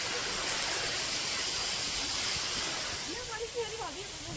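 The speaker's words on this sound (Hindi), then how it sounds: "अब बारिश आ गई तो ये झरना भी तेज हो जाएगा" Steady, dense rushing water from a waterfall mixed with heavy rain hiss at Kanak Ghati, continuous and fairly loud, with a faint voice briefly audible under it.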